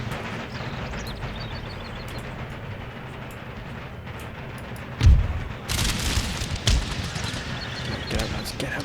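Musket volleys and artillery booms in the Empire Total War video game, a steady crackle of distant gunfire under game ambience, then a heavy close boom followed by more loud rattling volleys.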